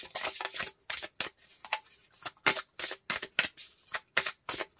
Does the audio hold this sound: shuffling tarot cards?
yes